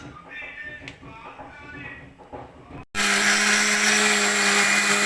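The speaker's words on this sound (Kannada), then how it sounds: "ಈಗ ಮಿಕ್ಸಿ ಮಾಡೋಣ" A kitchen mixer grinder blends rava cake batter with chocolate, bursting into a loud, steady whirring roar after a stretch of someone talking.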